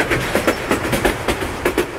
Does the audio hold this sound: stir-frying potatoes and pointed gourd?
no